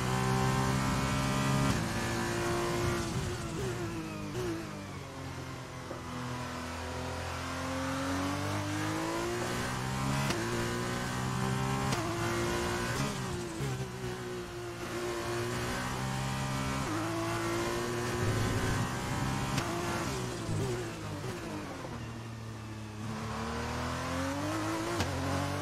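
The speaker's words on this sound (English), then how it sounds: "that turbo spool on the F2 car just sounds unreal." A turbocharged F2 race car engine in the F1 2020 video game roars continuously, turbo spooling, pitch climbing and dropping through repeated gear shifts, loud and sustained with no talking.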